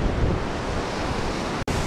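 Ocean waves wash steadily onto a beach, a continuous loud roar of surf with wind buffeting the microphone and no voices.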